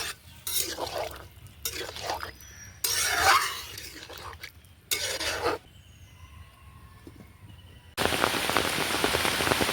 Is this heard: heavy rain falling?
yes